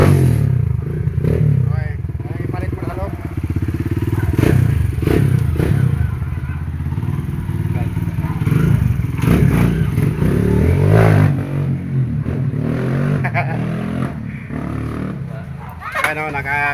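Kawasaki KLX trail motorcycle being pushed and manoeuvred into place in a workshop, with clattering, thumps and scraping of the bike over a steady low rumble, while people talk throughout.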